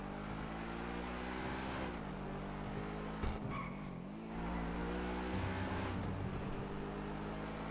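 A car engine in a video game drones and shifts pitch as it drives, with revving and a brief tire noise, steady and continuous throughout.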